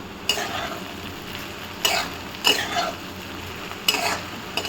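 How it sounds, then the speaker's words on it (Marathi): Okra with coarse peanut powder is stirred in a pan, with several distinct scraping strokes over a soft, steady sizzle. "अशा प्रकारे एकसारखी भेंडी हलवून"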